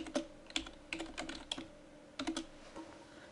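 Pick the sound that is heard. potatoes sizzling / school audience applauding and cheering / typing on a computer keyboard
typing on a computer keyboard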